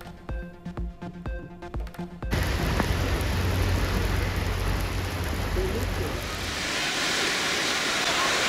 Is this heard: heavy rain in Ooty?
yes